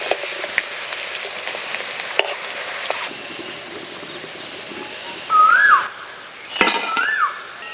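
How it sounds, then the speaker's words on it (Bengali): Flattened mung lentil fritters fry crisply in a wok of oil, a bright crackling sizzle with a few sharp clinks of utensil on pan, then two brief high whistling tones near the end. "বড়াগুলো কেমন কুড়মুড় করছে।"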